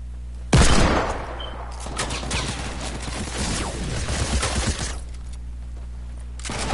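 Gunfire in an online duos shooter game, a loud close crack at the start followed by a dense clatter of shots and impacts, then a quieter stretch and another burst at the end.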